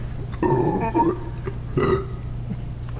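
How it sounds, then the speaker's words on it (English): Two loud, drawn-out burps come from a man in a casual gaming-commentary setting, the first longer and wavering and the second shorter, close over a low background hum. "Does walking make you burp like an obese person?"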